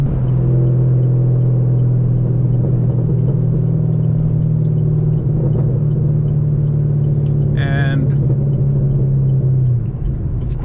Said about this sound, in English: the dangerous thing about this car is that it just picks up speed so easily